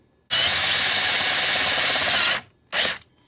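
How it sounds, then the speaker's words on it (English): A power drill whirs loudly and steadily for about two seconds, stops, then gives one short final burst, drilling a hole in a Jazzmaster-style guitar body for a tune-o-matic bridge, up close with no talking. "Why don't you just drill into this and see what the hole works out to be."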